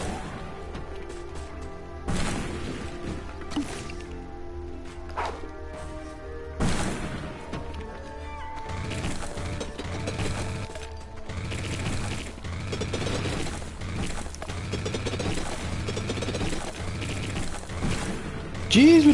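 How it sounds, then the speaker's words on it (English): Explosions go off in the mining game SteamWorld Dig, bursting as a string of crashing impacts and mechanical clanks over roughly twenty seconds, with game sounds filling the gaps between them. "Jeez, with the explosions!"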